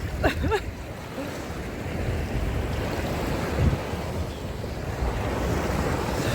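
Sea surf rolling onto the shore at Odesa, a continuous broad wash of breaking waves with gusty wind buffeting the microphone, loud and close, with a brief squeal-like sound near the start.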